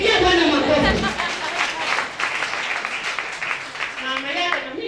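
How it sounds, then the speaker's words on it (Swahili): A church congregation applauds the Lord during a healing service with a prophet. Clapping and crowd noise carry on steadily under loud speech from the preacher and the chatter of the people. "Pigia Bwana makofi."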